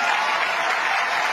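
Audience applause at a televised stage show, a dense, steady burst of many hands clapping together, loud and continuous with no voices over it.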